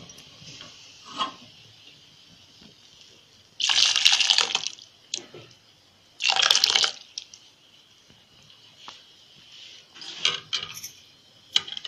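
Hot water is poured into a cooking pot holding urad dal ghoota, giving two strong gushing pours of about a second each among softer splashes and kitchen clinks, close to the listener.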